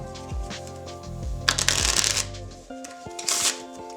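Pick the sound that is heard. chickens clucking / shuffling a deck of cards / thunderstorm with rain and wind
shuffling a deck of cards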